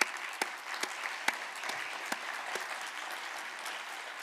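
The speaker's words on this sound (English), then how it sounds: "let's just give them a round of applause and thank them." A standing audience at a film screening applauds exhibition staff, a soft, fairly distant patter of clapping with a few sharper individual claps popping out.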